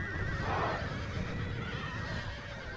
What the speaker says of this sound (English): A lot of horses dying.